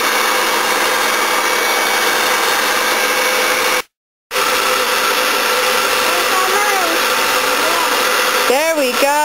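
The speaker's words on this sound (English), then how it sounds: "Isabel, you want to spin the mixer?" A kitchen mixer whirs steadily as it blends ingredients, loud and continuous with one brief cut, and a few rising and falling tones appear near the end.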